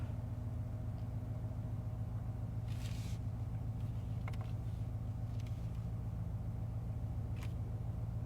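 A 2024 Mercedes S63 AMG engine in Sport Plus mode, a steady deep rumbling drone heard from inside the car, constant and even throughout without talking.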